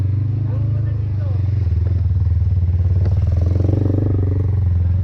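A motorcycle on a mountain road heading down from Mt. Ayaas toward Wawa Dam, its engine a steady low drone that swells slightly as it goes past, with people talking over it throughout.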